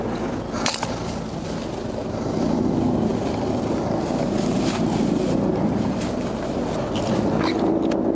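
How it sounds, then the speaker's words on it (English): A Santee Fire Department fire engine idles at an incident scene with a steady low rumble that carries on throughout. Wind buffets the microphone, and a few faint clanks are heard. "So obviously we still have the engine on."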